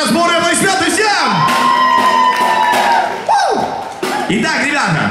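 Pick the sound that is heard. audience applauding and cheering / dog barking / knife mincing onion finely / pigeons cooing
audience applauding and cheering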